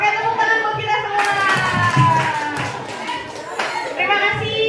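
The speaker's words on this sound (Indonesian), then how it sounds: "Oke, tepuk tangan buat kita semua." A crowd of adults and children applauding together at a workshop gathering, dense clapping under cheerful voices and chatter, swelling and easing over a few seconds.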